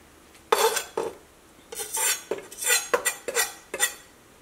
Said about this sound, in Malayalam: നമ്മുടെ പൈനാപ്പിൾ ready ആയിട്ടുണ്ട് ഇത് നല്ല ചെറുതായിട്ട് കട്ട് ചെയ്തിട്ട് എടുക്കുക